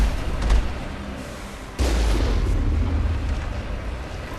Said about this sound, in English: they can just fire the big guns!